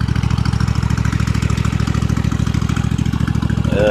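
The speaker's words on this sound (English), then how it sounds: "Pretty good little lawnmower." A Husqvarna Z254 riding lawn mower engine idles close by with a rapid, even chugging pulse that stays steady throughout.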